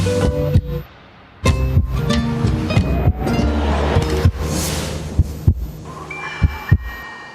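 A steady heartbeat sound effect thumps in deep repeated pulses over a humming music bed, with sharp percussive hits and shimmering tones layered on top, loud and close throughout.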